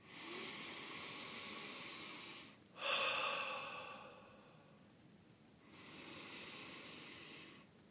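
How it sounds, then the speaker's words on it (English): A person breathes slowly in through the nose and out through the mouth during a meditation, long airy inhales and exhales with a sharp intake in the middle, close and soft with no talk. "breathing in and through your nose and then out through your mouth"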